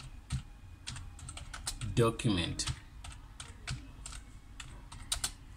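Fingers tap a computer keyboard in quick, uneven bursts of close clicks while a person speaks briefly over the typing.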